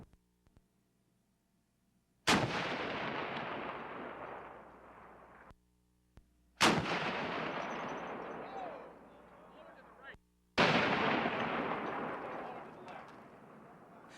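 A 32-pounder carronade cannon fires three times at plywood targets, each shot a loud, sharp boom that decays over several seconds with a long rumbling tail, separated by brief quiet gaps.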